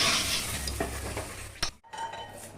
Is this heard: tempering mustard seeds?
yes